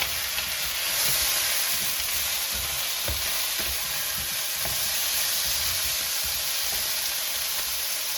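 Plums sizzle in a hot pan with a steady loud frying hiss, as scraping and tapping from stirring break through at intervals, all close up with no talk.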